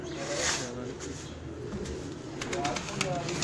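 Pigeons with red feathers coo steadily at close range while someone talks over them, with faint background noise throughout.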